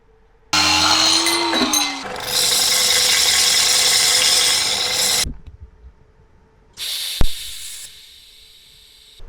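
Metal piece being cut for a turbo brace on a Renault Clio running a Garrett G25-550 turbo: a loud, continuous power-tool whine for several seconds, a short pause, then a second shorter burst of cutting, with no talking.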